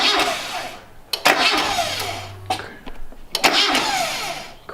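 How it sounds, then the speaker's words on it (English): Boosted Mazda Miata engine cranking over without starting, with the starter turning in a few separate bursts separated by short pauses, close up and fairly loud. "just turn the key a little bit, kind of like crank it over, not all the way, and then that's priming it"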